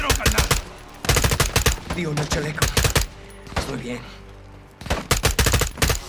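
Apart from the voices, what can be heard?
gunfire in the video game Modern Warfare 2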